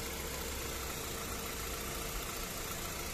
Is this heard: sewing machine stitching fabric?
no